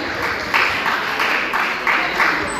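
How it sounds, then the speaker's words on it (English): An audience applauds a student speaker at an academic talk, the clapping dense and steady with several swelling surges, filling the room at moderate loudness with no voices on top. "Can we clap for him?"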